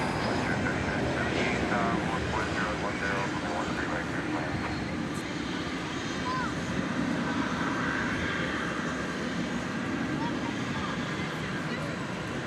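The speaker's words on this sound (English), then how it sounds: "I think we may be seeing this particular aircraft departing soon" An MD-11 pushing back from a gate at DFW airport at night gives a steady, broad engine rumble and whine that holds at an even level throughout, with faint talk underneath.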